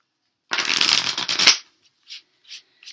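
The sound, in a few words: shuffling tarot cards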